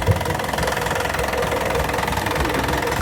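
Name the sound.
boat's marine engine running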